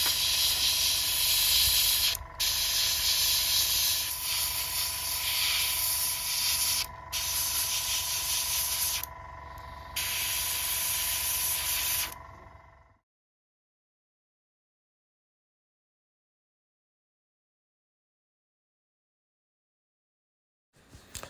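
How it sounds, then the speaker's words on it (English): An airbrush sprays paint onto a WW2 Omaha Beach diorama in a steady close hiss broken by a few brief pauses, then cuts off into silence. "You just need to keep the airbrush sort of tight."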